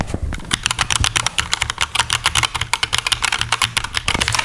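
Someone types quickly and steadily on a DreamMachines DreamKey TKL keyboard with red switches, giving close, solid, fairly loud keystrokes in a dense, even rhythm.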